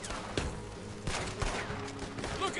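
Gunfire rings out in a Red Dead Redemption 2 campaign shootout. Several quick, sharp shots crack in a brief irregular volley against a noisy backdrop.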